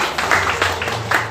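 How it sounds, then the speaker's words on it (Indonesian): A church congregation applauds the mothers during an Indonesian sermon, a short, moderately loud patter of clapping with a few stronger bursts, no voices over it. "Beri tepuk tangan buat para ibu."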